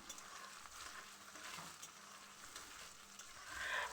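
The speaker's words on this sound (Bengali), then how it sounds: "মশলাটা হালকা করে ভেজে তারপর আমি পেঁয়াজ কুচি দিয়ে দিচ্ছি" Chopped onions sizzle steadily in a pan with fenugreek, cumin and other whole spices, a continuous frying hiss with light stirring, the sizzle swelling louder near the end.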